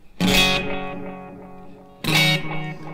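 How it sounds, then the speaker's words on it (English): Two bright electric guitar chords ring out about two seconds apart, each followed by a decaying wash of medium dotted-eighth-note delay repeats that fade quietly. "medium style delay at dotted eighth notes"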